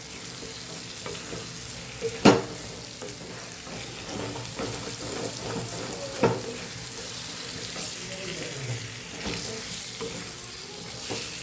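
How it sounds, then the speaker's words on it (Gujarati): Bitter gourd stirred into sizzling masala in a pan, a steady frying hiss with scraping spoon strokes and a few sharp clinks against the pan. "અહીંયા આપણે મસાલા સાથે કારેલાને મિક્સ કરી લઈશું."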